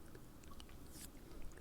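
Chewing on the flesh of a Chile Monoloco Matasanos hot pepper, a soft, wet, steady mastication, close and quiet, with faint squishy bites and no talking.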